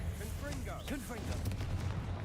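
Confringo blasting spell cast in Hogwarts Legacy, a booming magical blast with a crackling burst, heard under a voice with an ongoing low rumble throughout.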